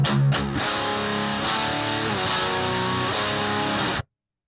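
A loud, saturated electric guitar played through a Fender Twin Reverb amp impulse response, with a thick distorted riff that runs steadily for about four seconds and then cuts off abruptly.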